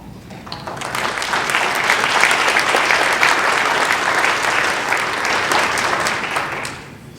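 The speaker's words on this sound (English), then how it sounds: "let's give them a round of applause, regardless what happens" A crowd at a youth panel event gives a big round of applause for young people, loud dense clapping that swells quickly, holds steady for several seconds, then fades.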